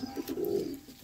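Restless, wing-clipped pigeons at the Konnagar pigeon market give a soft, low throaty coo that swells and fades within a second, fairly quiet and close, with no talking.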